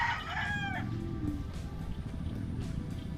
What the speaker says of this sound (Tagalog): May mga manok eh.